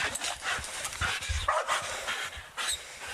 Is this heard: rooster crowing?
no